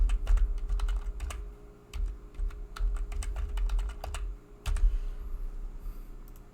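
Computer keyboard being typed on while entering login credentials: quick irregular clicks and taps in short bursts, close, over a low steady hum.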